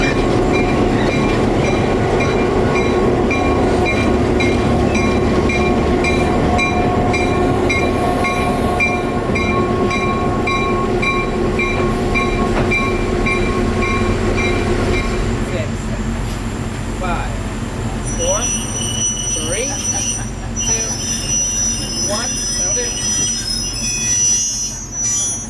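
A CF7 204 diesel locomotive runs on museum rails after dark in a small town, a loud steady rumble with sustained wheel squeal, later giving way to sharper clicks and rattles of the cars passing close by.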